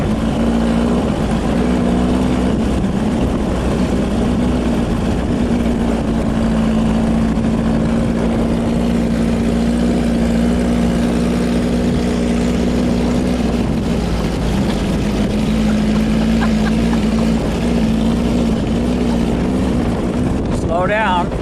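Off-road vehicle driving on sand, its engine droning steadily and loudly with a sustained hum throughout, as voices talk over the noise.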